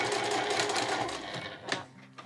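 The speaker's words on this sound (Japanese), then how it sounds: "端まで来たら返し縫いして終わりになります" A sewing machine backstitches at the end of a seam while making a small drawstring pouch. It runs as a steady whirring stitch for the first second and a half, then slows and stops with a couple of short mechanical clicks.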